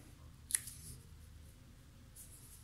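Scissors make a single crisp snip through paper for a scrapbook album, one short sharp cut in a quiet room followed by faint rustling.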